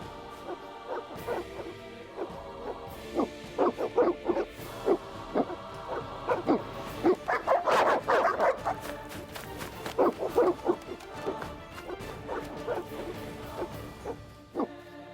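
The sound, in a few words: evil dogs barking in The Witcher video game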